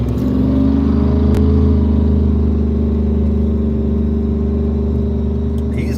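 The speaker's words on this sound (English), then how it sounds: "let them rumble, buddy. I like a loud car." A loud car engine rumbles at a steady idle, a deep continuous drone that stays strong and even throughout.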